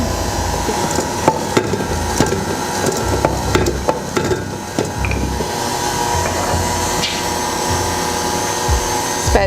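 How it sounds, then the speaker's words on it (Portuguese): An electric stand mixer runs continuously while beating chocolate cake batter, a loud, steady mechanical whir with scattered clicks and clatters over it and no talking. "Eu vou deixar minha batedeira ligada e vou pegar o óleo."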